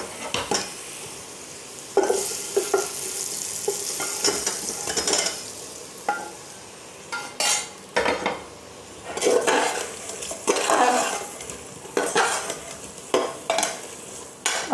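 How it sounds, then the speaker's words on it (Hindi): Potatoes are tipped into fried spice masala in a pot for aloo dum pulao, bringing repeated clinks and scrapes of a spoon against the pot over a low sizzle, with no voices. "तो आलू को हम इस मसाले में डाल देंगे।"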